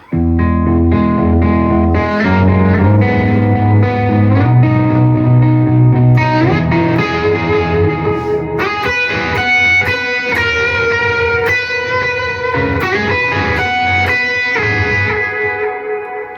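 An electric guitar through a reverb pedal plays a chiming riff drenched in lush reverb, notes washing together and sustaining into a continuous shimmer.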